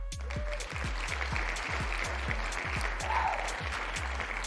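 Applause plays during a Twitch sandbox game stream as a winner is congratulated, with steady, even clapping at a fast regular pace, loud and close, and no voices over it.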